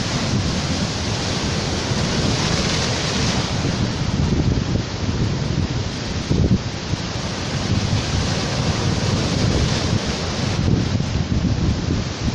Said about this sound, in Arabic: هسكت شوية عشان اسمعكم صوت البحر